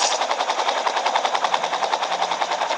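Rapid automatic gunfire from a mobile shooting game played on a tablet, a steady rattling burst of shots repeating evenly and loudly for the whole stretch with no voices.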